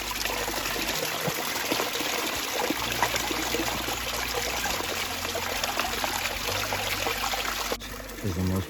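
Water trickles and pours steadily as it is filtered through a Sawyer Squeeze backpacking filter on a trail, a continuous close dribbling sound that briefly drops off near the end.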